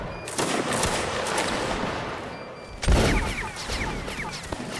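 Massed musket volleys crack from a Napoleonic Wars line battle in the video game Mount & Blade: Warband, a dense spread of shots with one heavy close blast near the middle, then scattered distant reports.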